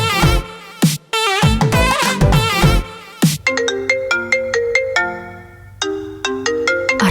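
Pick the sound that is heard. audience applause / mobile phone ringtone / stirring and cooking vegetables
mobile phone ringtone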